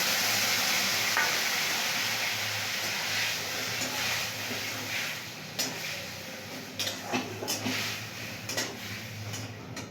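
Chopped tomatoes go into a hot pan for tomato chutney, bringing a broad steady sizzle, then a few sharp clatters and stirring knocks near the end, close by.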